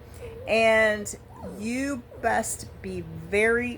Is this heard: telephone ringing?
no